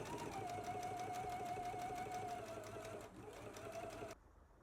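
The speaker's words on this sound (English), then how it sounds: "Now we can do an edge stitch about 1/8 of an inch away from the seam." A sewing machine runs steadily while edge stitching a dress seam, a close, continuous whirring hum with a faint high whine that eases briefly near the end and then stops.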